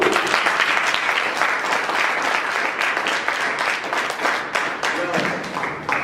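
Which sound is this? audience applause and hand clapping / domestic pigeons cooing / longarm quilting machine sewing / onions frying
audience applause and hand clapping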